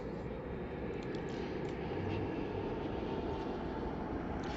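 An airplane lands on runway 27 at Heathrow Airport, heard as a steady, broad jet roar that holds constant and fairly loud throughout, with no voices.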